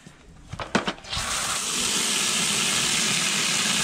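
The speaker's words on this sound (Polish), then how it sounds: "I tak, zalewamy wodą." Water poured into a container for a pet's bowl, starting after a few light knocks and becoming a steady, continuous splashing rush that fills the rest of the clip at close range.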